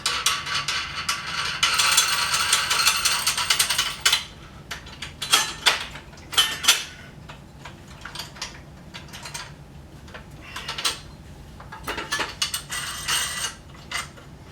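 A nut is tightened on the accessory tray of a Celestron Evolution telescope tripod, heard as bursts of close metallic ratcheting and clicking with brief pauses between turns.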